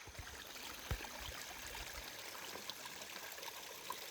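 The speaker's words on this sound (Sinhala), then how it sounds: "ඇහුනේ වතුර ටැප් එකක් එක දිගට ඇරිලා තියෙනා වගේ සද්දයක්" A kitchen water tap is left running. A faint, steady trickle and rush of water continues without a break.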